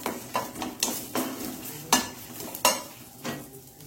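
Onion sautéing in oil for a prawn and okra sambar, a soft sizzle broken by repeated scraping strokes of a spoon against the pan, roughly every half second, close and clear with no talk.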